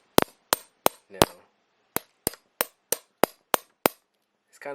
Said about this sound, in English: you will hammer it and it'll push that